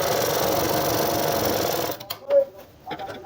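A sewing machine runs at close range as a seam is stitched on a women's shirt, whirring steadily for about two seconds before stopping, followed by a few faint handling sounds.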